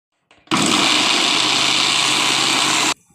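A mixer grinder jar whirs loudly for about two and a half seconds as it grinds coconut with water into paste for a ribbon fish curry, starting and stopping abruptly, close up with no talk.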